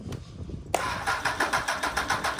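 Hornet minitruck engine being cranked as it tries to start, a quiet pause followed by a loud rapid rhythmic chugging that keeps pulsing evenly without catching, close by.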